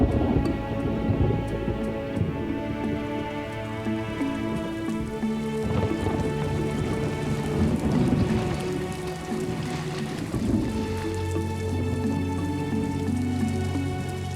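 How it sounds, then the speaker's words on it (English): Heavy rain pours steadily during a violent wet-season storm in Namibia, with thunder rumbling loud and continuous beneath the downpour and no voices. "The last few days have seen violent storms moving in swiftly and suddenly."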